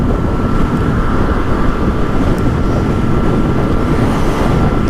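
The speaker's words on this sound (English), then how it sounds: "the wind is trying to blow me" Steady, heavy wind roaring across the microphone over a low Yamaha FZ-09 motorcycle engine drone while riding, constant and loud throughout with no talking.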